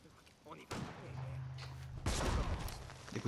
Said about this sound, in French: Des coups de feu